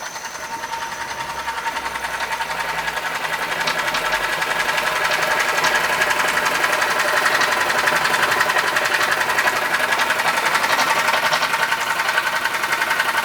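A Weeden model 79 steam engine runs steadily with a fast, continuous mechanical clatter, close and constant, growing a little louder after the first few seconds and holding there with no talking.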